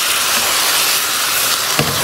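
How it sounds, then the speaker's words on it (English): Steam cooks potatoes in a hot pan with a little water, giving a loud, continuous hiss that runs steadily throughout, with one small knock near the end. "So the steam cooking the potatoes."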